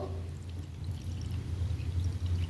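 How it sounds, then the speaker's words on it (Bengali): Water is poured into a bowl holding salt and jaljeera, a soft, continuous trickling splash that is faint and close, with no voices. "এবারে পরিমাণ মতো জল দেব"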